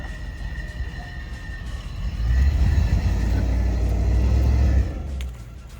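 A Land Rover engine revs over a stump off-road, a low rumbling drone that swells louder midway, holds steady, then eases off, heard fairly close.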